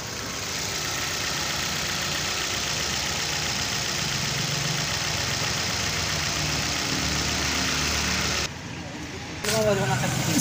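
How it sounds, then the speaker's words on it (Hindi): A Maruti Swift Dzire petrol engine idles steadily up close after a full service, a continuous even hum with a brief dip near the end and a voice speaking nearby. "गाड़ी को सेल्फ मारेंगे और इंजन का आवाज़ चेक करेंगे"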